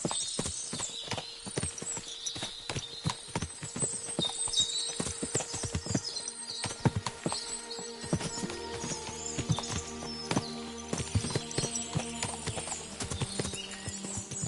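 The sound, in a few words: horses hooves clip-clopping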